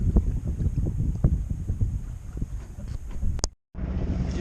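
A Nova 28 sailboat motor sails at about three knots, with a low engine rumble and rushing water under heavy wind buffeting on the microphone, briefly cutting out near the end.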